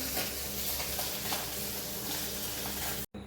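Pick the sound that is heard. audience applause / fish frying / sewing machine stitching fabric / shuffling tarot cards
fish frying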